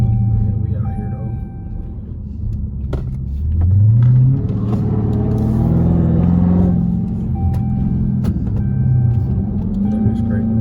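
Dodge Challenger Hellcat Striker engine rumbling and revving as the car slides through a neighborhood street, rising in a loud surge midway then settling to a steady drone, with voices talking inside the car.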